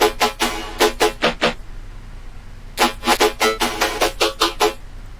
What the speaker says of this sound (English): we have the drop bass, which is like basically the main event of the whole track